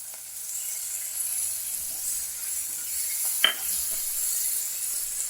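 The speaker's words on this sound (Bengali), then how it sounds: "সর্ষে বাটা দিয়ে বেশি ভাজতে নেই" Mustard paste frying with fish in a pan, a soft continuous sizzle with a single sharp clink of utensil on cookware midway.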